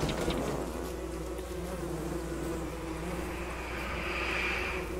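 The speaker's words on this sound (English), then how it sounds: "Yeah, there's the killer bees." Killer bees in Don't Starve Together give a steady, dense buzzing drone that hums continuously and close throughout, rising slightly toward the end, with no talk over it.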